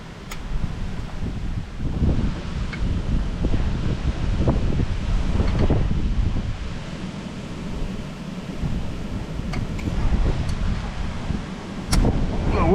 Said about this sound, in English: The wind is not helping our case today.